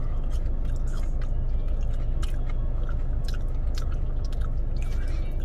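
Close, wet chewing and soft crunching of Arby's seasoned fries dipped in ketchup, steady and continuous, with faint scrapes and no talking.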